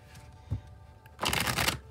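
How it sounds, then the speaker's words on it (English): A deck of tarot cards is shuffled by hand: a short soft tap first, then a dense riffling burst of cards that lasts about half a second. The sound is close and clear, with no voices. "I'll shuffle till the deck feels ready, then I'll cut"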